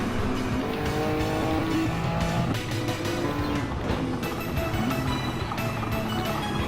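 Race cars tear around a circuit in a night race, engines droning loud and steady with tire squeal and overlapping passes for several seconds, no voices.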